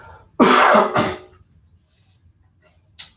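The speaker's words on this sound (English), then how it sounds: "Sorry about the coughing, but it is what it is" Two close, harsh coughs in quick succession, then near silence with a faint breathy noise and a short sharp sound at the end.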